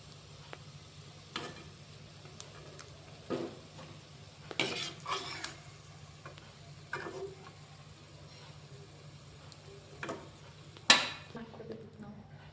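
Onion manchurian balls fry gently in oil over a low flame with a faint continuous sizzle, broken by occasional soft clinks and scrapes of a spoon against the pan, close and quiet.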